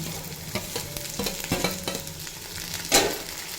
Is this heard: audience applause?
no